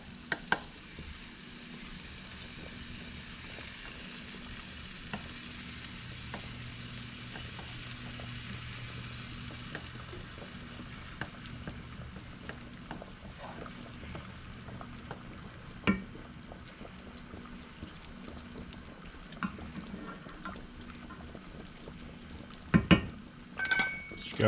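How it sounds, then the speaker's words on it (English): Minced garlic and a whole onion sizzling in a pan while cooking seafood lasagna, a low, steady frying hiss with occasional clicks and clatters, faint and continuous throughout. "I'm gonna go ahead and put my minced garlic and my onions so they can caramelize"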